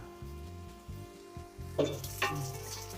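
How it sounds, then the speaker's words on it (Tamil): Chopped vegetables sauté in a pan for white sorghum upma, a soft, steady sizzle with a low hum beneath, broken by two sharper stirring scrapes late on. "காயெல்லாம் நல்லா வதங்கட்டும்"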